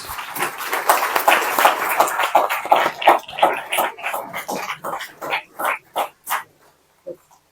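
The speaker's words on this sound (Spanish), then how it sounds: "Nuevamente, un aplauso para ambos" Applause from a conference audience for two speakers, starting as scattered, fairly close clapping that thins into a few separate claps and fades out over about seven seconds.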